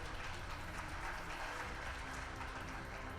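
Studio audience applause at a televised school quiz competition, a dense, even wash of clapping heard at a distance and fairly faint throughout.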